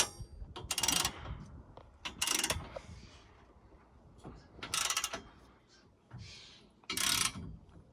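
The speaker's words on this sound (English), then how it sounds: "And with the wrench in, I'm gonna go on this side and tighten it." Wrench ratcheting on a bolt while fitting a universal RV hitch to a bus: several short bursts of metallic clicking, each about a second long, close and fairly loud, with quiet pauses between.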